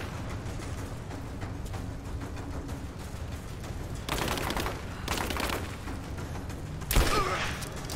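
Gunfire in the video game Rise of the Tomb Raider, bursts of shots during a firefight over steady background noise, with a sharper loud crack near the end.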